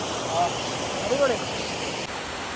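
A small forest waterfall near Bonacaud sends up a steady, even rush of falling water at a moderate distance, with a few faint high chirps over it.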